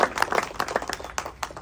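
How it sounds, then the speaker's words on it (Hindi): A crowd at a political rally claps in quick, uneven bursts, loud and close, with separate hand claps standing out and no speech over them. "मैं चाहूंगा एक बार जोरदार तालियां इनकी हिम्मत के लिए हो जाए"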